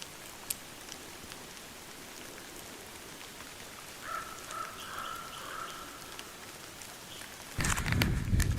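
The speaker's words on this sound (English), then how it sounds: "It's raining." Steady rain falls outdoors at an elk hunting stand in eastern Oregon, a continuous soft hiss of drops that ends in a sudden louder burst of close, rough noise.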